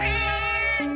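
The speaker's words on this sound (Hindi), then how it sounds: "अरे देखो, ये बिल्ली रो भी रही है।" A single drawn-out cat meow, loud and close, with a rising wavering tone that shifts pitch near the end.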